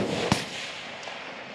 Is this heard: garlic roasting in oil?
no